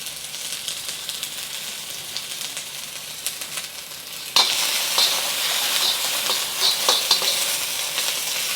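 Green onion whites fry in a tablespoon of vegetable oil in a hot pan, a steady bright sizzle running throughout that jumps louder halfway with crackling pops, with no voices.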